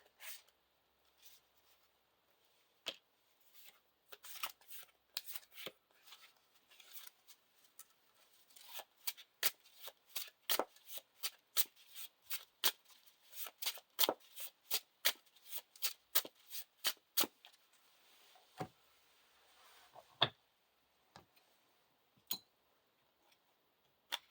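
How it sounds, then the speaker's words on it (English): Playing cards for a Lord of the Rings card game are shuffled by hand into a deck, a long run of crisp, rapid riffling flicks and taps close by, with brief pauses between bursts. "And they get shuffled into the new encounter deck."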